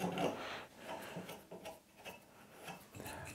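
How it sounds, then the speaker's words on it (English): A very slight chamfer being pared onto the edge of a wooden tenon for a perch stool stretcher, heard as quiet, irregular scraping and rubbing strokes close by, with no talking. "I'm gonna come back and chamfer off the edge of the tenon"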